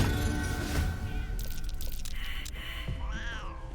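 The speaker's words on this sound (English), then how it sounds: "like how the minor illusion is a cat" A cat meowing from a minor illusion spell in the fantasy game Baldur's Gate 3, a couple of short mews near the end over busy game background sound.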